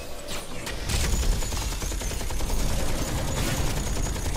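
Rapid gunfire from the Heroes of the Storm video game rattles in fast, dense bursts amid busy battle effects, moderately loud and sustained across the whole stretch.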